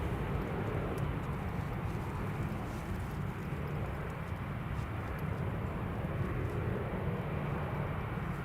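A Ryanair airliner takes off at Newcastle Airport during wet, windy storm weather, its distant engine roar steady and muffled under a blanket of wind and rain noise.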